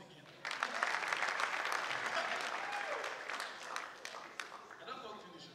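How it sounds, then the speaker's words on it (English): A crowd at a Nigerian comedy award night bursts into applause, a loud dense wash of clapping that starts abruptly and slowly thins out, with voices mixed in toward the end. "clap for us again."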